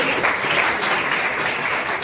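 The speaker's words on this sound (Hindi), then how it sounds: "मध्य विद्यालय कोड़े, ताली बजाइए।" Audience applause for a girl winning first prize at a block-level school quiz competition, a steady dense wash of many hands clapping throughout, fairly close and loud, with no talk over it.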